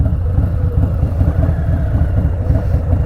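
Close, loud Stage II Harley-Davidson Softail Street Bob engine with a deep, even, lumpy throb that pulses steadily for a few seconds with no talk over it.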